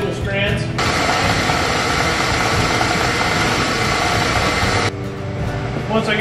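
A rope-making machine at King Ropes in Sheridan, Wyoming spins threads into individual strands, a loud, steady mechanical roar that starts abruptly, runs for about four seconds and then cuts off, leaving quieter shop noise.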